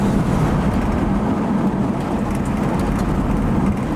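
A 1963 Buick LeSabre cruising smoothly, heard as a steady low engine and road rumble with broadband hiss, continuous and unbroken with no voices.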